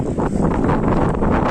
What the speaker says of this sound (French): Ah, il y a du vent, bon, c'est chiant.